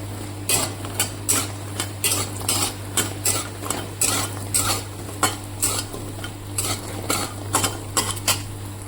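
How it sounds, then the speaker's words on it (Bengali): Lentil dumplings fry in mustard oil in a pan, with a faint sizzle under a steady rhythm of sharp metal spatula clinks and scrapes, roughly two per second. "ডালের বড়িটাকে ভেজে নেব একটু তো রিফাইন তেল শেষ হয়ে গেছে সরষার তেল দিয়ে ভেজে নিলাম"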